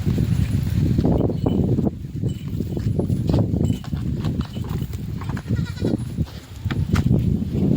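Goats bleat repeatedly amid a busy, noisy village farmyard with cattle, with several overlapping animal calls and some shuffling or hoof sounds throughout.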